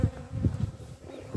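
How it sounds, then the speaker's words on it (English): Honeybees buzz around a hive in an Irish apiary, a close, dense low hum that swells in quick uneven pulses throughout. "there were so many bees in this hive"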